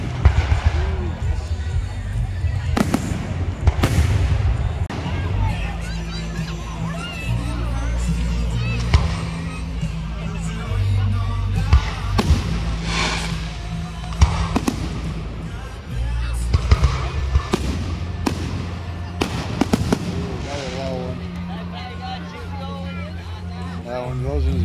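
Fourth of July fireworks burst in scattered sharp bangs and crackles, some near and some farther off, amid a steady background murmur while people talk throughout.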